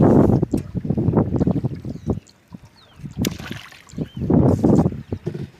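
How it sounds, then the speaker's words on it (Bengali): A boat moves through flood water after heavy rain, with close, rumbling water churning and buffeting in bursts, broken by a brief quieter lull and faint splashes. "এই যে যাচ্ছি নৌকা দিয়ে গ্রাহক সেবা দেওয়ার জন্য"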